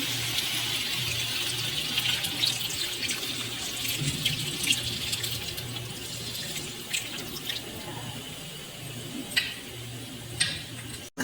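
Warm water running and trickling into a bowl as ingredients are mixed for an Algerian chicken tajine, a steady close pour with small drips and clinks over a continuous low kitchen hum, no talking.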